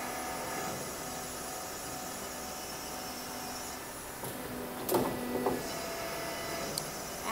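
A standing seam panel roll forming machine presses a logo into the panel. A constant mechanical drone carries a few sharper clanks and knocks near the end.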